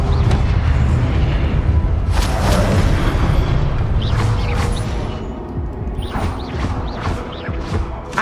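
Confringo blasting-spell explosions from a PS5 wizarding-world game roll out as heavy, rumbling booms and crashes. The blasts overlap in dense succession, then give way to a few sharper bursts near the end.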